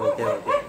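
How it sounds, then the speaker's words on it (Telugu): A dog barks outdoors at night, one brief, fairly close bark with a slightly whining, drawn-out tone. "చూడు బయట కుక్క అయితే ఎలా అరుస్తుందో,"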